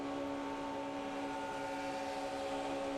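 NASCAR Sprint Cup stock car engines at Talladega in 2008 hold a loud, constant high-revving drone near 8,500 rpm, steady in pitch with layered harmonics, and no commentary over it.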